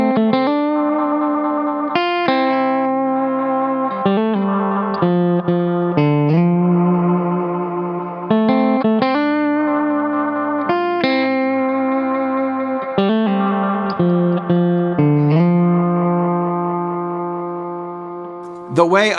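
Electric guitar run through a Korg 301DL Dynamic Echo rack delay, chords and notes repeating in lo-fi, slightly distorted echoes that smear together over about nineteen seconds, loud and alone without talk.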